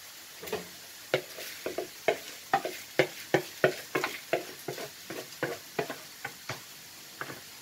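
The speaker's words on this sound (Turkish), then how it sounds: "Pirincimi de ilave ediyorum." Washed rice is added to a pot and stirred for stuffed vine leaf filling, a series of rhythmic scraping, clicking strokes over a faint sizzle, close and fairly quiet.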